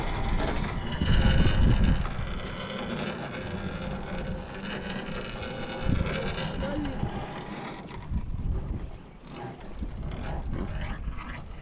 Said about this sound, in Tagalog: naririnig naman siguro mga kaidol yung hangin